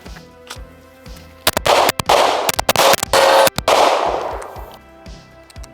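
A string of loud, sharp Glock pistol shots fired in close succession, with ringing echo after each report before the sound fades to quiet.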